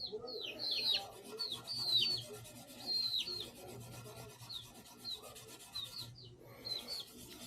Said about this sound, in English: Dry sanding will take off really quick.